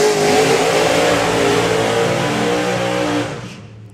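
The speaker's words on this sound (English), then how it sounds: "And side-by-side burnouts." Drag racing cars do side-by-side burnouts at a Dragstalgia 2024 drag strip event, a loud, continuous engine roar with revving that holds steady, then fades out in the final half-second.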